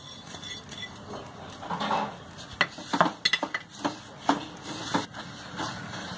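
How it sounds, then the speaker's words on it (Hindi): A metal spoon stirs roasted sesame seeds into jaggery syrup in a pan, giving close, irregular scrapes and clinks against the pan. "और अच्छे से हिलाएंगे।"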